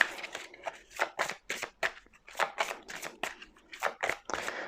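Tarot cards shuffled by hand in a series of about a dozen quick, crisp riffles and slaps, close and clear in a quiet room, each burst separated by short gaps, with no talking.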